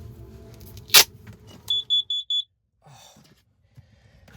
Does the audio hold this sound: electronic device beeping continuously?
yes